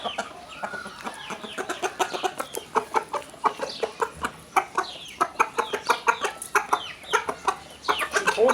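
A Hazır fighting rooster held in someone's hands clucks close up in a steady run of short, sharp clucks that keeps going throughout.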